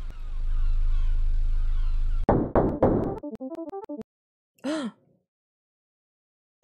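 Knocking on a closed door inside a house in a horror video game, a short run of sharp knocks ringing out after a steady background hum cuts off, followed by a brief vocal moan-like sound.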